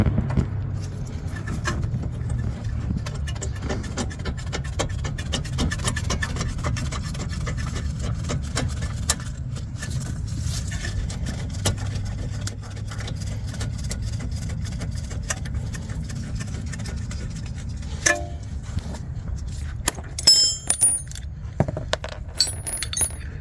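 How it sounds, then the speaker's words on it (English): A bolt is fitted back onto the front suspension of a BMW E92 3 Series. A low, steady background hum runs throughout, with scattered sharp metallic clinks and taps that grow more frequent toward the end. "I'm going to put this second bolt on, the top one on now."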